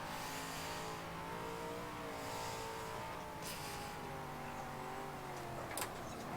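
Race car in a racing video game, its engine droning steadily with shifting harmonic pitch, plus a faint brief tire squeal near the end, fairly quiet throughout.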